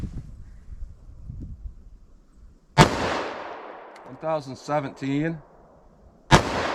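Two sharp gunshots from a .45 ACP+P pistol with a 3.3-inch barrel firing Remington Golden Saber 185-grain hollow points, outdoors, a few seconds apart, each with a long decaying echo; someone speaks briefly between the shots.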